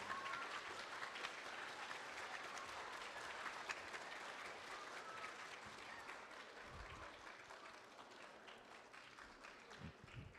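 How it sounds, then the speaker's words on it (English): A school audience at a Veterans Day ceremony applauds its principal with steady, dense clapping that stays fairly faint and distant throughout and tapers slightly toward the end. "So give a round warm of applause to Mr."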